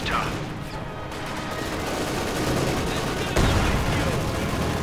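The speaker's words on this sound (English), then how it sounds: "Anti-tank rifles fail to penetrate." Anti-tank rifles and other small arms fire during a Company of Heroes 2 match, heard as dense, continuous battle gunfire and crashes that stay loud throughout, with a sharper impact near the end.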